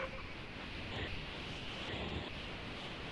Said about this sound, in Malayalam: നല്ല മഴയാ ഇവിടെ.